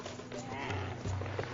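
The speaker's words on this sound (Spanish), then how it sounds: "El camello." A camel groans and bleats in a few short, throaty calls, fairly close over a soft background.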